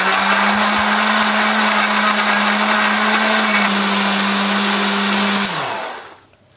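A kitchen blender whirs loudly and steadily as it purees chilies, garlic and shallots in a little water, a constant motor whine that winds down and cuts off near the end.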